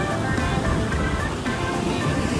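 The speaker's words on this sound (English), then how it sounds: "these waves behind us are very fun" Big ocean waves breaking at Waimea Bay, Hawaii, on a day too rough for swimming, heard as a steady, loud, dense roar of surf with constant wash and no distinct individual crashes.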